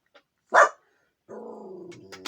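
A household dog gives a single sharp bark followed by a low drawn-out growl that rises into a final yelp, indoors and fairly close, with no one talking over it.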